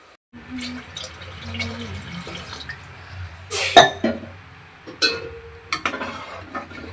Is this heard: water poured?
yes